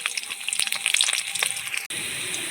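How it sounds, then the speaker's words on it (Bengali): Chopped onion sizzles and crackles in hot oil in a wok, a steady close frying hiss with brief stirring, and a sudden short dip before the sizzle resumes more evenly. "কড়াইতে তেল দিয়ে দিয়েছি তেলের মধ্যে এবার দিয়ে দিচ্ছি একটু বড় করে রেখে দিয়ে পেঁয়াজ কুচি"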